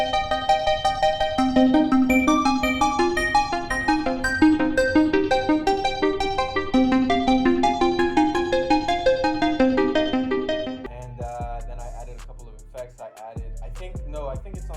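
An Omnisphere Harmolog Revival Keyscape preset, played dry without effects, rings out as a loud, bright, bell-like keyboard melody for about eleven seconds before fading into other sounds.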